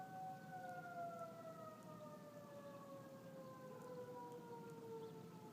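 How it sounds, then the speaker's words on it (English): Distant tornado sirens rise and fall in long wailing sweeps during a failed siren test, faint and steady over a low background hum. "I heard them, they're like going up and down."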